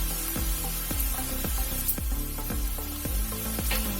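Garlic dropped into a pan of fried onions sizzles steadily, with a crackling hiss and soft rhythmic scraping of stirring running throughout at close range.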